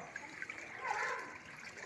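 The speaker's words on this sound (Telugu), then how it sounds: "నీళ్లు బాగా నడుతున్నాయి." Floodwater of the overflowing Munneru stream in Khammam rushes steadily and strongly, a broad continuous wash of flowing water with no pauses, close and fairly loud.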